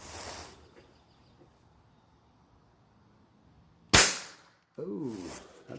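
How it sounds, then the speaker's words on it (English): Dry fire of a Gamo Swarm Whisper .22 pellet gun outdoors: a single sharp, loud crack arrives after a few quiet seconds, followed by a brief ringing tail, then a burst of noise closes the clip. "Oh, that sounded like a dry fire."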